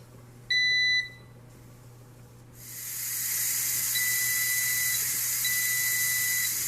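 A NESCO NPC-9 9.5-quart stainless steel electric pressure canner sounds its timer with a short bright beep pulse near the start, followed by a steady, loud hiss of venting steam that continues to the end.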